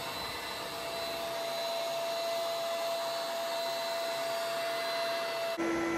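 A Bissell Big Green carpet cleaner vacuums up sprayed carpet, a loud, steady whining drone with a high motor tone that shifts pitch abruptly near the end.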